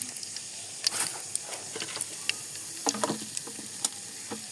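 Whole white peppercorns and cloves frying in about one and a half cups of hot oil, a steady soft sizzle with scattered pops and crackles, close and fairly quiet.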